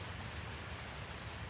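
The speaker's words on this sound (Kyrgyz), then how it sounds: "Тып тамган тамчылар." Rain falls steadily as a dense, even patter of drops on a surface, soft and close, with no pauses and no voices.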